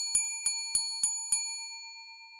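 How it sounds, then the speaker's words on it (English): Five bright, evenly spaced notification-bell dings ring out alone, each with a short ringing decay, followed by a fading tail. "hit that notification bell"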